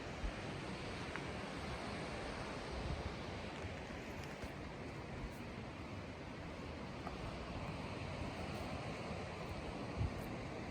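Steady ocean surf and breaking waves below a coastal overlook with sea stacks on the Olympic Coast, a continuous broad wash at even level without pauses, with no voices.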